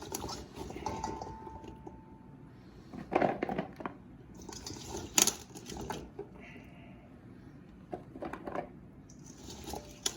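Water sloshes and splashes as freshly harvested small carrots are rinsed by hand, with knocks and clatter against a container, close and moderately quiet.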